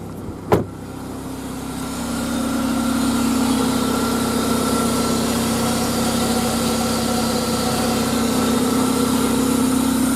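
A 2000 GMC Sonoma extended-cab pickup idles steadily close by, a smooth continuous hum with a faint vibration, preceded by one short click near the start.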